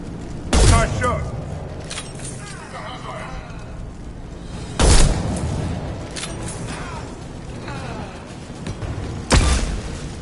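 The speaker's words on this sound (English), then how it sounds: "Blue Suns and Vorcha shooting anything that moves" Gunfire from Blue Suns mercenaries and Vorcha in the Mass Effect video game, heard as three heavy booming shots or blasts spaced several seconds apart over a constant battle rumble, with talking between.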